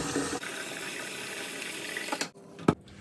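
Hot water at about 55 degrees runs from a tap into a basin for soaking yellowed glasses, a steady loud gush that cuts off, followed by a brief splash and clink.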